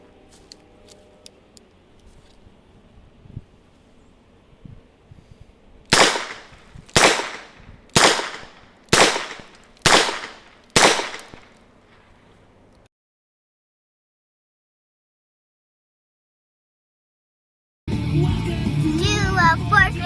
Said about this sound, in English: let's see if the Smith will fire without the moon clips real quick.